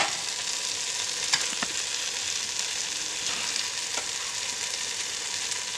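Carrots, beans and potatoes fry in a pan with onions, ginger-garlic paste and tomatoes for a vegetable biryani, giving a constant, even sizzle with a few faint stirring taps.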